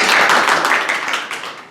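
An audience at a talk claps together in a dense burst, loud and close, slowly thinning out over about two seconds, with no speech.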